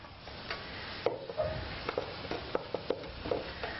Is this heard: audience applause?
no